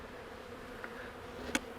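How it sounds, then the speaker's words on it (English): A low, steady buzz from a cluster of honeybees at a hive hums faintly throughout, with a brief sharp click near the end. "Big cluster bees up here."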